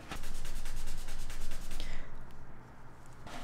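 Steady rhythmic rubbing of stripping solution off an RC car body's painted surface, a fast scrubbing stroke that continues for a couple of seconds and then drops to quieter, slower rubbing.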